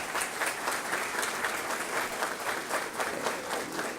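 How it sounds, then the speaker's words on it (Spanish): An audience at a panel discussion on political parties in the Dominican Republic breaks into strong, continuous applause with rhythmic clapping pulses, moderately loud and sustained without speech. "Vamos a recibirlo a todos ellos con un fuerte aplauso."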